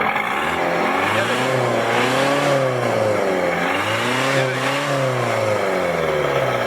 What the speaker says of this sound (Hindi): सर डीजल गाड़ी है